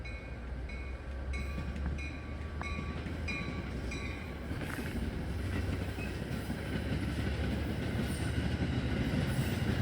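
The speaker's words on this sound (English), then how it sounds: "managed to catch train 2112 with F59 PHI number 80 making the shove" A train with an F59PHI diesel locomotive pushing at the rear rumbles steadily past at close range, its heavy engine drone and rolling wheel clatter holding loud and even throughout.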